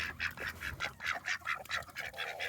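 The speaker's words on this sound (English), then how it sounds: "boy ducks don't quack. They make that weird raspy noise" Male ducks in a bachelor coop give rapid, rhythmic raspy calls in a steady run of short pulses, close and fairly quiet, with no talking.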